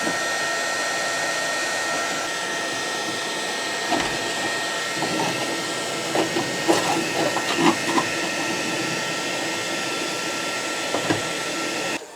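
A heat gun blows a loud, steady whooshing hiss close by while softening black bitumen on a Saab 900 Turbo body. The sound holds unbroken throughout, with faint scraping and knocking clatter in the middle.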